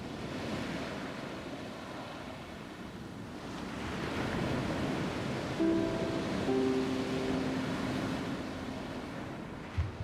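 Ocean surf rolling in a steady broadband wash with some wind noise, with a faint tonal hum appearing briefly in the middle; no voices.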